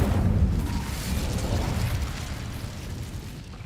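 An Incendio fire spell is cast in the Hogwarts Legacy video game inside a maze near a cave, giving a heavy, rumbling whoosh of flame that starts loud and slowly fades over several seconds.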